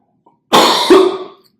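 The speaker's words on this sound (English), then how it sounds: "I got a cough this morning." One harsh, close cough, a single chesty burst that fades quickly into silence.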